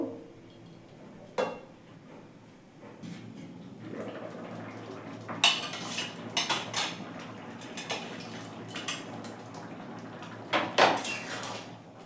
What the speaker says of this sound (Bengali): আরও একবার ঢাকনাটা খুলে আমি ভালো করে টমেটোটা নাড়িয়ে নেব আবার একটু ঢেকে দেবো